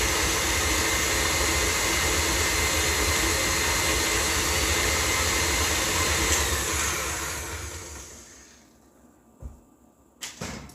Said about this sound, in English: Oh, I love my KitchenAid.